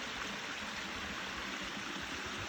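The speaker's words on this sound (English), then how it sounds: "this is right next to these gorgeous falls" A creek and nearby waterfall at Big Canoe in Pickens County, Georgia rush in a steady, dense wash of flowing water, continuous and even with no voices.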